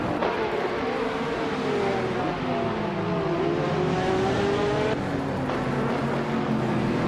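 Several 2011 Zytec Z11SN race cars on track, engines whining and shifting in pitch as they race and pass, loud and continuous with overlapping motor tones.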